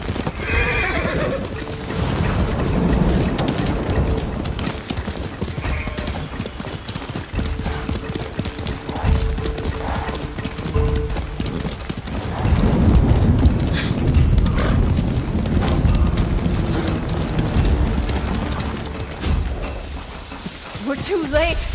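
Galloping hooves of a horse pound rhythmically in a samurai video game, with whinnies, battle noise and character voices layered over the steady clip-clop.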